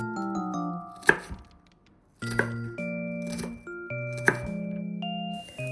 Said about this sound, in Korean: 자른 양파 조각을 겹쳐놓고 5mm 정도의 간격으로 잘라주세요.